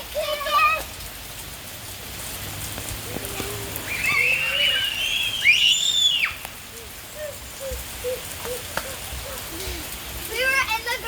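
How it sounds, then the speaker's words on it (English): Rain patters on a garage roof as a continuous soft hiss. Birds chirp in the background and voices are heard now and then. "there's rain coming on the roof"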